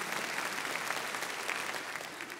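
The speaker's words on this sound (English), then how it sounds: "you can applaud that" Audience applause inside a church, a steady dense wash of many hands clapping at even loudness throughout, without voices over it.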